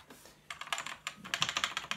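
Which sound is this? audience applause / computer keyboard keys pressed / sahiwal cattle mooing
computer keyboard keys pressed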